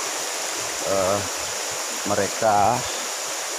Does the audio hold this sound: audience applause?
no